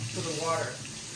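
Chicken wings rinsed under running tap water in a kitchen sink, a brief steady hiss and splash of flowing water, fairly quiet and with no talking.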